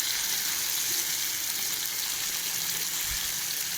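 Soft fish fries in hot oil with salt and turmeric, giving a steady, close hiss of sizzling, with a faint low scrape of gentle stirring near the end.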